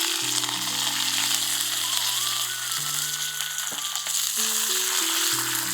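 Mustard seeds, cumin, urad dal and chana dal tempering in hot oil, a constant dense sizzle and crackle throughout, with steady sustained musical tones playing over it.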